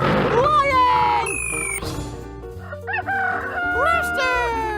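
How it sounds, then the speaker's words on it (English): A rooster crows loudly and drawn-out near the start over bright, bouncy music, with further sliding bird-like calls later. "Rooster!"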